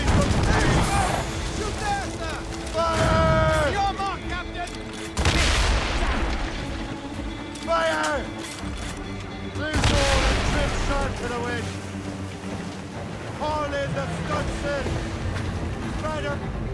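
Ship cannon fire in Assassin's Creed Rogue, several heavy booms spread across the clip amid sea and ship ambience, with shouted crew voices and music over it.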